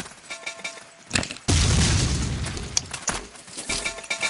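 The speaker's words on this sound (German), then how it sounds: "Wieso schmeißt meine Dreckskumpel mit Granaten nach mir?" Grenade explosion in the video game Ace of Spades, a sudden loud boom with a sustained rumbling, crackling tail over a couple of seconds, preceded by a sharper burst and followed by scattered smaller impacts.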